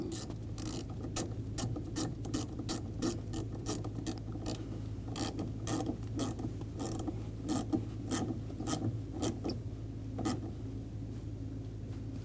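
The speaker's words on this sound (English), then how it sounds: "Tighten down the nut." A hand ratchet clicks steadily as it tightens a nut during brake work on a 2021-2023 Jeep Grand Cherokee L. The sharp, close pawl clicks repeat in a long even run over a low background hum, with no speech.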